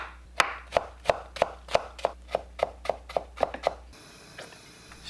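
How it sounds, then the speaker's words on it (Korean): Carrot is chopped into small pieces with a knife on a cutting board, about a dozen crisp, evenly spaced strikes in a steady rhythm, close and clear, then a quiet pause. "당근을 작게 썰어주세요."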